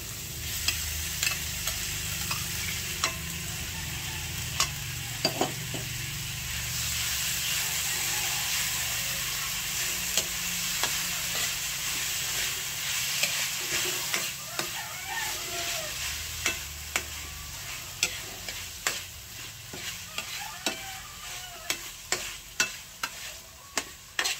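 Ground meat fries with chayote in a pan, giving a constant hiss and sizzle under repeated sharp scrapes and clicks of a utensil stirring, growing busier toward the end.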